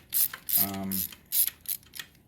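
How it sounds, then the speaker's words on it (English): A short stubby ratchet works on the spark plugs of a 2018 Yamaha R6 motorcycle, making a few close, brief clicking and whirring bursts with quiet gaps between them. "use a short stubby ratchet so that I don't put too much torque behind it when I'm tightening these up"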